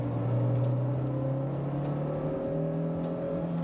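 Toyota Corolla Levin AE86 with its 1600cc engine being revved on the road at legal speed; a clear rising engine tone climbs steadily, then drops and climbs again, loud and close inside the car.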